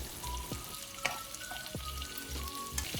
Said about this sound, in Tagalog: I-fry lang natin to hanggang sa mag-orange ang magkabilang side